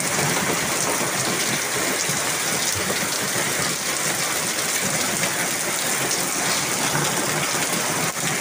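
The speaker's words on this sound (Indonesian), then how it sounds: "Hujan deras." Heavy rain pours in a dense, constant roar, loud and close, outside on an evening near a mosque.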